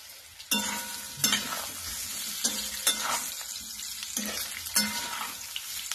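Alu vadi rolls fry in hot oil with a steady sizzle, broken every second or so by sharp scraping stirs of a spatula in the pan, close and fairly loud, with no voices.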